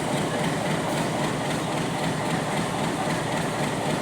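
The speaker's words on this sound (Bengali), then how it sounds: "ঢাকা থেকে ছেড়ে আসা নোয়াখালীগামী নোয়াখালী এক্সপ্রেস" The Noakhali Express passenger train from Dhaka runs through Chowmuhani railway station, and its steady, loud rumble with wheel clatter stays continuous and close throughout.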